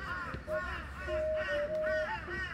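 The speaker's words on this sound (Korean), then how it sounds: "까마귀." Crow cawing in repeated harsh calls, several in a row across a couple of seconds at moderate distance, with faint background noise and no talk.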